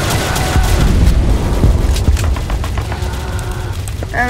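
A Roblox game explosion gives a dense, loud rumbling boom that rolls on for several seconds, thick and continuous, with gunfire-like crackle mixed in and no talking.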